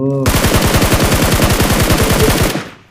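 A loud, close burst of automatic gunfire in the mobile battle royale game BGMI, about two and a half seconds of evenly spaced rapid shots in a steady rhythm before cutting off.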